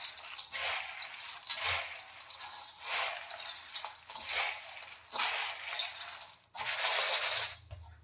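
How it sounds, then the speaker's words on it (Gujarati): Puffed rice and sorghum chivda is tossed by hand with curry leaves, making close, dry, crisp rustling swishes that come in repeated waves about once a second. "તો હવે તેની અંદર આપણે મીઠા લીમડાના પાન પણ લઈ લઈશું અને બધું જ હળવા હાથે ફરી એકવાર મિક્સ કરીશું."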